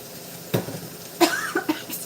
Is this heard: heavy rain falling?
no